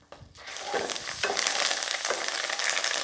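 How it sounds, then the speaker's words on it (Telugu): Tempering spices and curry leaves hit hot oil for raw mango pulihora, bursting into a loud, crackling sizzle after a brief quiet moment, then hissing and popping steadily and close up. "ఇలా నూనెలో వేయించుకోండి"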